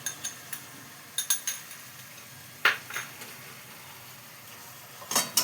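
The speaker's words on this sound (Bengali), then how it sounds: "এই বাটাটা দিয়ে নাড়িয়ে নেব" A ginger and green chilli paste is stirred into mutton cooking in a pan, giving faint, scattered metal clinks and scrapes of a utensil against the pan over a quiet background.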